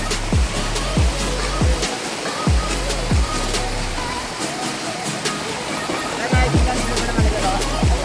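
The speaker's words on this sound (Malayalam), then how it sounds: "ഇതാണ് നമ്മളെ വെള്ളച്ചാട്ടം. ഇത് നമ്മളെ ചെറിയൊരു വെള്ളച്ചാട്ടം." A small waterfall near Mambad, Karachal, roars with a steady rushing wash of water, loud and continuous, while people talk over it in places.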